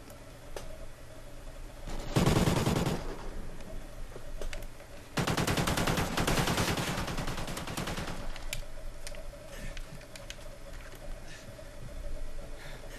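Automatic machine gun fire in a Call of Duty: Ghosts multiplayer match, two loud sustained bursts of rapid shots with quieter game ambience and distant firing between them.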